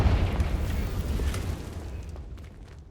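A Confringo spell explosion in Hogwarts Legacy bursts with a deep, heavy boom that rumbles and decays into a crackling tail over a few seconds.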